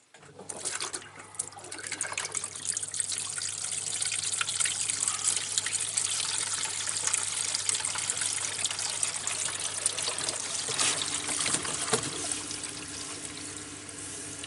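Washing machine drain water trickling and running out steadily through a hose, a continuous close watery flow with no talking.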